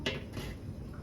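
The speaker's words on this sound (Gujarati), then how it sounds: "સૌથી પહેલા મૂકી દઈએ આપણે તપેલું" A metal cooking pot is set down on a stove before making a spicy crab curry, giving one short clanking knock with a brief ringing tail, close and alone.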